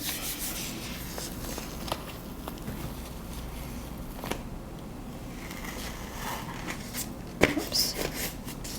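Paper rubbed by hand over leaves and foliage laid on a gel printing plate, a soft steady scraping texture running close up throughout, with a few light taps and a sharper bump near the end.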